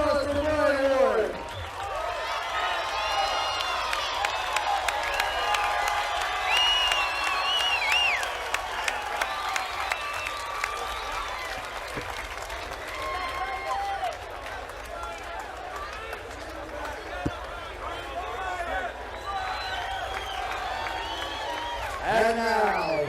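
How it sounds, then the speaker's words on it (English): A crowd at a King of the Cage MMA event bursts into sustained applause and cheering, with whoops and clapping across the whole stretch while an announcer's voice carries over the noise. "Let's give a big round of applause for Brian Ward."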